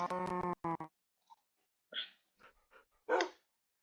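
A dog barks in the game Minecraft: a run of rapid, loud, close barks, then a pause and a few softer, scattered yips and whimpers.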